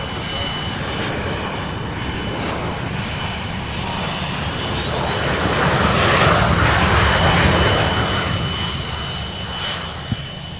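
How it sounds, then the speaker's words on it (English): An Embraer E-145 regional jet coming in to land at Louisville International Airport, a loud, continuous engine roar with a high whine that swells to a peak as it passes and then eases slightly. "this E-145 comes in for a landing"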